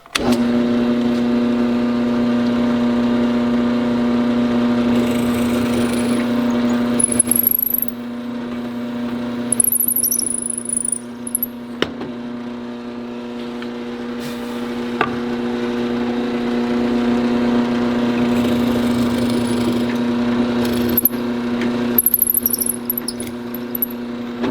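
A power drill boring into wood at an angle whirs with a steady, high motor whine in two long stretches, pausing briefly in between, close by.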